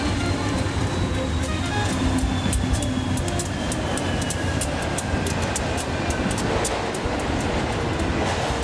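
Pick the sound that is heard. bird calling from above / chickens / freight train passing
freight train passing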